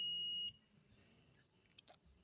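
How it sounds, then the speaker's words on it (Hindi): A multimeter set to continuity gives a steady electronic beep while transformer wires are tested, lasting half a second and then cutting off, followed by faint handling clicks in a quiet room. "ये रहा बीप का आवाज़।"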